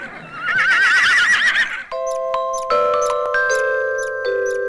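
A horse gives a loud, close, quavering whinny lasting about two seconds. Sustained bell-like musical tones follow.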